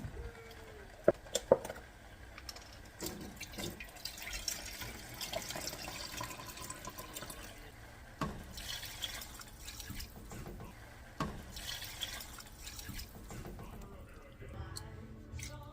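Chicken broth poured into a soup pot for homemade chicken mushroom soup, a steady liquid splashing and trickling with a few sharper drips, moderately quiet and continuous throughout.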